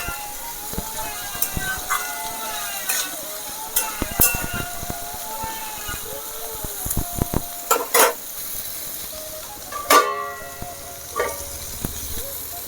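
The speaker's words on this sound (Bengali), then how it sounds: "আর কিছুক্ষণ ভেজে তারপর নামিয়ে নেব" Cauliflower fries in a blackened kadai in a village kitchen, a steady loud sizzle broken by repeated scraping and clanking stirs of a spatula, heard close up with no talking.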